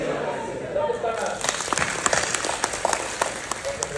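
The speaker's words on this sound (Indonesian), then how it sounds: "Tepuk tangan." Audience applause at a Pelindo Terminal corporate business-strategy session bursts in about a second after a voice, then carries on as dense, fairly loud clapping with talk over it.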